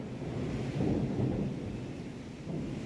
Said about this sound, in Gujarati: ગાજવીજ સાથે વરસાદ થયો